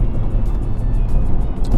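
A Subaru SVX flat-six engine hums low and smooth from inside the cabin, a steady rumble with road noise, loud and continuous.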